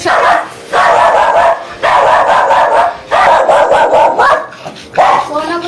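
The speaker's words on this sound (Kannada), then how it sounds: "ನಾಯಿ ಬಂತು ಅಷ್ಟೇ" A dog barks loudly and repeatedly in close bursts, each run of barks broken by short pauses.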